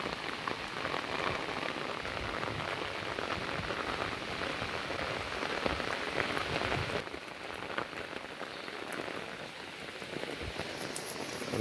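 A downpour at Kottiyoor makes a constant, loud rush of rain striking surfaces, unbroken from start to finish with a slight dip in intensity later on.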